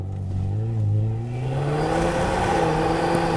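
A Toyota Tacoma TRD Pro engine revs up as the truck drives on deep snow and ice, a steady rising drone climbing in pitch over several seconds, close and loud with no talk.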